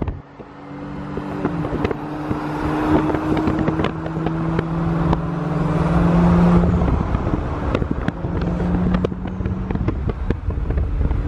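A BMW F10 or E92 engine runs at idle nearby outdoors, a steady low rumble with slight swells and wind buffeting the microphone, no talking.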